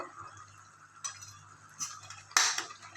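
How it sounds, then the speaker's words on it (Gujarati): A spoon clinks and scrapes against a pot while Pav Bhaji masala is stirred into the mixture, a few sharp taps standing out over a quiet background. "બધું મિક્સ કરી અને હલાવી લઈએ"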